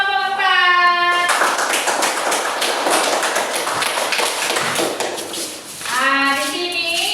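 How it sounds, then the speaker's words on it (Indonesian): Classroom applause for a student group after their presentation, dense rapid clapping from many hands filling the middle of the clip, with a brief tonal sound at the start and end. "Oke, tepuk tangan buat kelompok 4."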